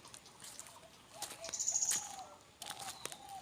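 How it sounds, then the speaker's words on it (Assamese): Small birds chirp in a quiet village setting, a few faint high twittering calls and short chirps scattered over soft background hush. "কেনেকুৱা চৰাই চিৰিকটি মাত দি থাকে"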